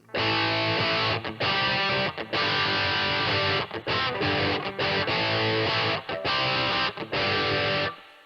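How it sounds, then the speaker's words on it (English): Crunchy, distorted electric guitar chords through a Tech 21 NYC Trademark 10 amp on its British, Marshall-style setting ring out in bursts with brief gaps, a thick mid-heavy tone, loud and close with no voices. "set the amp type to the British setting, and this is based off of more of a Marshall kind of sound"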